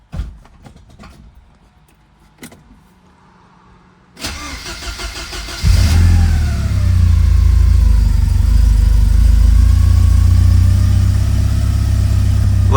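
A Porsche 944 Turbo engine cranks, catches and fires up after a few faint clicks and quiet handling, then runs loud and close with a deep steady rumble, slightly revved at first before settling.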